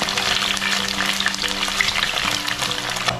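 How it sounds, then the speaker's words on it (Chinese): Chicken wings sizzling in plenty of oil in a pan, browned golden on both sides before cola is added, in a small rented-room kitchen; a dense, continuous close-up frying hiss with a low steady hum underneath and no voices. "现在这个鸡翅已经煎的是两面金黄了"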